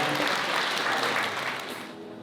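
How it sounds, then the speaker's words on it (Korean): Wedding guests clap together in a dense, sustained burst of applause that fills the hall, then gradually tapers toward the end. "박수 부탁드립니다."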